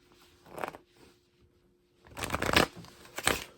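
A deck of playing cards is shuffled during a magic trick: one short riffle, a pause, then a longer crisp riffle and a final quick burst, close and fairly quiet.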